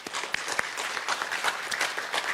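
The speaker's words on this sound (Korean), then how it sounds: "한 번 더 박수 주십시오" Audience applause at a Korean gathering honoring a Newsbus journalist, many hands clapping steadily for a couple of seconds with a few sharper claps standing out, no talk over it.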